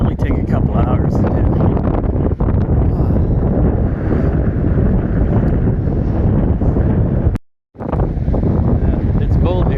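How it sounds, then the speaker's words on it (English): Strong wind buffeting the microphone on a cold beach, a continuous loud roar with a brief dropout near the end, no clear voices over it. "Yeah, it's cold here. Freaking windy."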